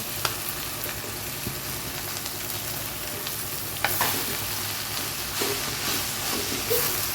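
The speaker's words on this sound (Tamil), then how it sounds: "வதக்கி விட்டுக்கலாம் நல்லா டீப்பாக வதக்கலாங்க" Onion and manathakkali greens sauté in a clay pot with a steady, close sizzle, broken by scraping stir strokes and a few sharper clinks.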